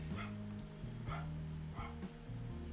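Indoors, a dog barks repeatedly in short, evenly spaced yaps and yips at moderate distance over a continuous low musical backdrop.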